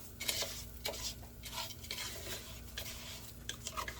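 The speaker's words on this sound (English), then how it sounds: "we are going to start giving this a stir" A spoon scrapes and stirs Mexican rice in a pan on the stove, producing quiet, irregular scraping strokes over a faint background sizzle.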